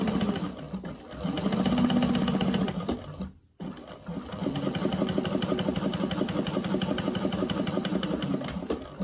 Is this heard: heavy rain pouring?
no